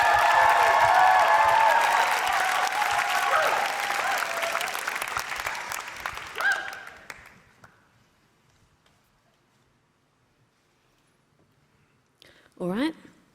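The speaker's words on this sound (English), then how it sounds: "Keep those applause going. Keep those claps going." An audience applauds at a poetry slam grand final with loud, dense clapping that fades out over several seconds into near silence, followed by a brief voice at the end.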